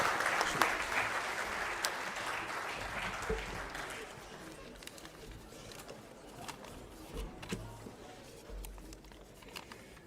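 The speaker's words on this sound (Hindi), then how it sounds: "जोरदार तालियों से स्वागत" A crowd at a Congress party rally applauds to welcome a speaker, the clapping loudest at first and then thinning into a quieter, fading patter with light background murmur.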